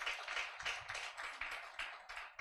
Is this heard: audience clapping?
yes